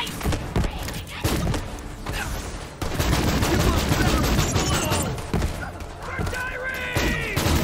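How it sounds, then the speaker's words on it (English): A legendary Jacobs gun in Borderlands 3 firing bouncing fireballs with a Super Mario-like sound: rapid, loud shots in quick succession with thudding impacts, and a person talks over parts of the barrage. "it shoots bouncing fireballs with every shot that make a similar sound to the one from Super Mario"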